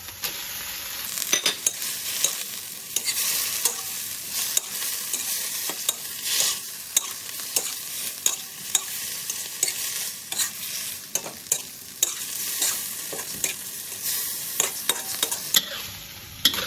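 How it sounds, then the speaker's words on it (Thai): Onion, red and yellow peppers and celery stir-fried in a hot pan, a loud steady sizzle broken by frequent quick scraping and tapping strokes of the spatula, close up with no speech. "ก็ผัดผักนะคะ ให้เขาสลบค่ะ"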